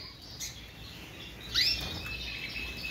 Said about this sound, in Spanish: ahí podéis ver que siguen los pajaritos bañándose